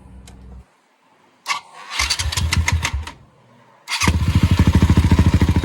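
An EGL 450 motorcycle engine cranks in a short burst, pauses, and cranks again with quick rhythmic pulses. It then catches and settles into a loud, close, steady thumping idle.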